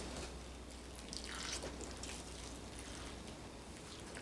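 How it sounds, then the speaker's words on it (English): Water trickles and drips faintly onto plant cuttings in a greenhouse, a soft steady splashing over a low background hum. "Get a little water on these."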